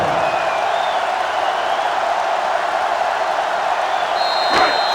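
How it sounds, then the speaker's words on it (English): Stadium crowd noise from the NCAA Football 06 video game during a simulated 2005 Georgia Tech at Virginia matchup: a steady, dense roar of a sellout crowd that holds evenly for the whole stretch, with a faint thump near the end. "This sellout crowd is really making a difference now as these guys can't even call the play."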